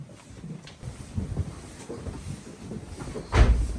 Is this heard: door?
yes